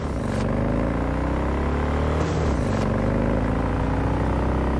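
A motorcycle engine in the Cyberpunk 2077 game drones loud and steady throughout, its pitch sweeping up, dropping around two seconds into a fresh climb, as the bike is held in a wheelie.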